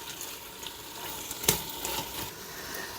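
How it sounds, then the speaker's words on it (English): Beef and dissolving beef bouillon sauté in a hot Instant Pot, giving a soft, steady sizzle with faint crackles and one brief sharper clink partway through, heard alone without talk. "I'm going to saute it for 10 more minutes"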